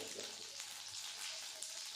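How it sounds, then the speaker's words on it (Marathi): Cumin seeds dropped into hot oil for a capsicum bhaji, a soft, steady crackling sizzle heard close up, continuous and fairly quiet. "तेल आपलं गरम झालेलं आता त्याच्यामध्ये मी जिऱ्यामध्ये टाकून घेणार आहे"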